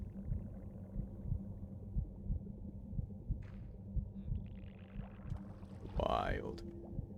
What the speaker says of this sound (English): There's a heartbeat.